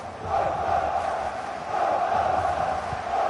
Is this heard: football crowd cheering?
yes